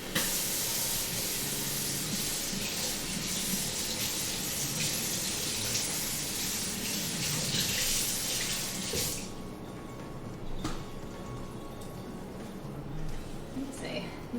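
Kitchen tap runs hard as a flour sifter is rinsed beneath it, a loud broad hiss of splashing water for about nine seconds, then the flow drops to a softer trickle with a few clinks.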